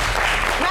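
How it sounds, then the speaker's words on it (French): Studio audience applauding women on a Congolese variety show, a dense, steady wash of clapping held at one level throughout the brief moment, with a voice faintly present underneath. "Applaudissez pour les femmes."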